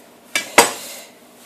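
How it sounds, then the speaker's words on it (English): Two sharp knife strikes on a cutting board while chopping leafy herb stalks for tomato sauce, crisp close chops about a quarter second apart, the second louder with a short ringing tail. "That's a satisfying chopping sound."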